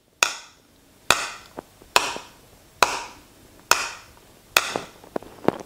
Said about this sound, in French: je prends cette petite cuillère et que je tape sur mon gobelet en plastique